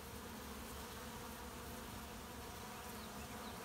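Honeybees swarming out of a car door, a steady, dense buzzing hum close by that holds without a break; no voices.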